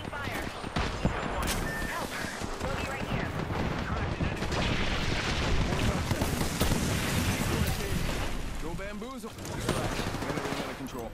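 Sustained, busy gunfire and explosions in a shooter video game, a dense continuous barrage of shots and impacts mixed with game effects at moderate volume.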